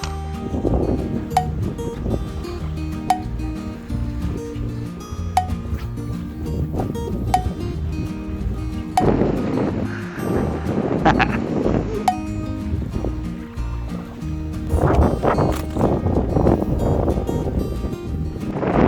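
Wind blowing on a windy spring day out fishing at sea, a continuous gusting rush with buffeting bursts on the microphone, heard under people talking and occasional small knocks.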